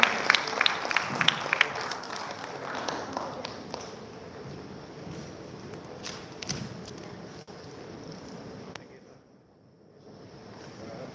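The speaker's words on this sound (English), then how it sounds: "Big applause for him." An audience at an afternoon session on inclusive economic development applauds, a burst of clapping that fades and thins over several seconds, with faint background noise.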